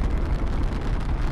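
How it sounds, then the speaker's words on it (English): A rocket launches in Fortnite, a dense continuous roar of deep rumbling that holds loud and steady for its short span, with no voices over it. "Oh, that's the rocket."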